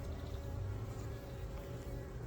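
A thinned honey bee colony buzzes inside an opened hive holding drones and honey, a constant low hum close by that stays even throughout, without speech.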